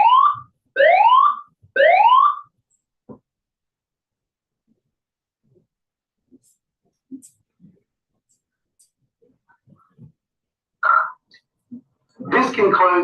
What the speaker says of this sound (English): This concludes the alarm tone testing.